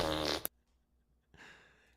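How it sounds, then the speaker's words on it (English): A fart sound effect spammed in a live audio chat room, a short blown burst, then quiet, then a longer raspy sputter trailing off. "Mike, can you please stop spamming the fart sounds?"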